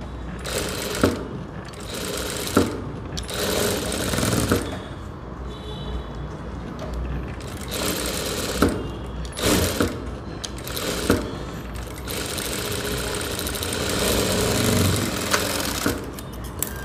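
A sewing machine runs in steady bursts, edge-stitching the front neckline of a four-dart blouse, its motor and needle whirring loudly with brief pauses between runs and no talking.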